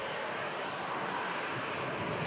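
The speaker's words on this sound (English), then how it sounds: "There's the Norwegian Max on the takeoff roll" A Norwegian Boeing 737 MAX airliner on its takeoff roll sends a broad, steady jet roar from a distance, an even wash of engine noise holding constant throughout.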